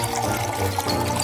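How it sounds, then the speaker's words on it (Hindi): A mixed drink poured into a glass: a short, close, steady stream of liquid splashing and gurgling without pause. "चलो इसे इस ग्लास में डालती हूँ।"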